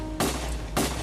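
Two sharp gunshots ring out roughly half a second apart, both loud and close, with short decaying tails and no voices.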